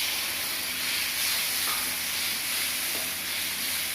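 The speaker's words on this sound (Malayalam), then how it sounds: "ഇനി ഇതിലേക്ക് നമുക്ക് ഈ തക്കാളി ആഡ് ചെയ്യാം." Tomatoes sautéing in a pan with chili powder, coriander powder, garam masala and turmeric, giving a steady, close sizzle and hiss with no voices.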